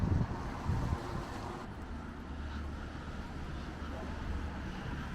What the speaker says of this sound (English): It's the 29th of December on a very wet and windy morning.